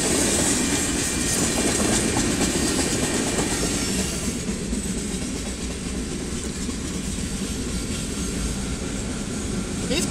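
A Union Pacific freight train rolls loudly and continuously through a road crossing in Saint Elmo, Illinois, its rumbling wheels and rattling cars sustained close by for the whole stretch with no break.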